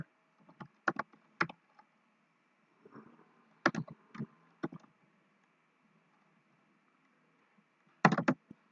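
Typing on a computer keyboard during SQL database design work, heard as short bursts of key clicks in scattered clusters with pauses between, close and fairly quiet, with no talking.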